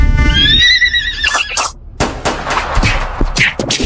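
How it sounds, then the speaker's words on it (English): A horse gives a loud, close whinny that rises and wavers, followed by a scatter of sharp thumps and knocks. "I think it was that a horse?"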